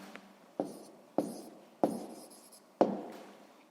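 Pen writing numbers by hand on paper: four or five short, sharp strokes at a steady pace, close and fairly quiet, with no talking.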